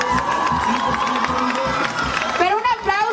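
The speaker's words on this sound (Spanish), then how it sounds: "a quien pedimos un fuerte aplauso" Crowd at a live tropical-band concert cheering and shouting with scattered clapping, lively and close, with an amplified voice or musical tone running through and rising toward the end.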